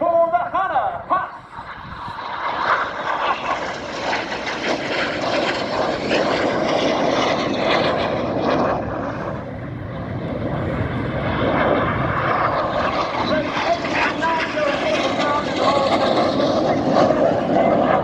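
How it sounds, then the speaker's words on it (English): Red Arrows jets roaring low over the airfield during an air display, a sustained loud engine rush that swells and holds throughout, with a public-address voice talking over it. "Each pair will now dive down to only 100 feet above the airfield."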